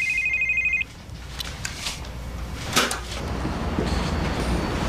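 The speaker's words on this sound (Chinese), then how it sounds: "怎么不接电话？" A telephone rings in a Taiwanese drama scene: an electronic ring sounds clearly at the start and then cuts off, leaving room ambience with light knocks and shuffling and no talk.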